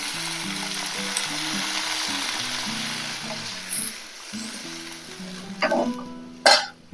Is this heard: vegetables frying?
yes